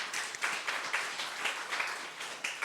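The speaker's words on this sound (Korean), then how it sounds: "박수하겠습니다." A church congregation claps quietly and steadily through a scholarship presentation, a soft rhythmic patter of many hands at a distance.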